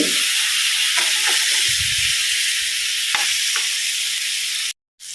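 Steady loud sizzling of fish frying in hot oil, continuous hiss with a few faint clinks, then an abrupt cut to silence near the end.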